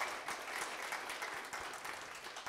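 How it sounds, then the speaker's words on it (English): A church congregation claps hands together during a morning sermon, a brief, dense burst of steady clapping with no talk over it. "give the Lord a hand clap this morning"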